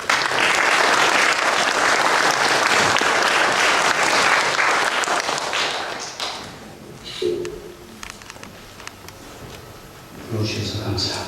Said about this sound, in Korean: 우리 나오실 때 박수로 환영해 주시기 바랍니다.